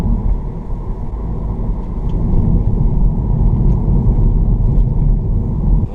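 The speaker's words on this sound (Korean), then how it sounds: "이렇게 그 노면 마찰음이 제법 많이 들어오네요" A steady, loud low rumble of road and tire friction fills the cabin of a Chevrolet Cruze diesel sedan on 18-inch Michelin tires, droning continuously on a rough road surface with a faint engine hum beneath.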